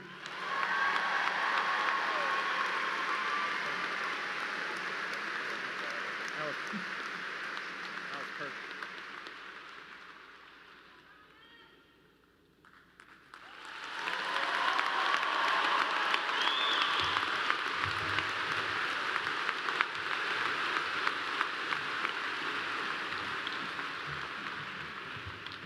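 Graduation ceremony crowd at Clemson University applauds its new graduates: sustained broad clapping with some cheering, dipping briefly to near quiet midway before surging back loud and full.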